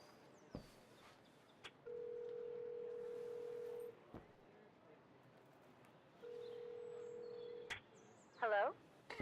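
Telephone number dialed in the video game Syberia: The World Before: two steady held dial tones separated by short clicks, then a brief warbling electronic chirp near the end, heard up close over a faint background.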